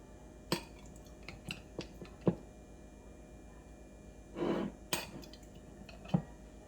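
Fruit preserves with small fruit pieces spooned into cream cheese kolacky thumbprints, a series of light metallic clinks and taps from the spoon at irregular intervals, with one soft scraping rustle, quiet and close.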